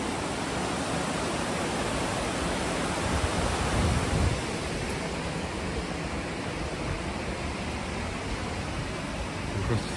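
River water flows steadily beside a small tributary, a broad continuous rushing wash that stays fairly even and close throughout with no voices.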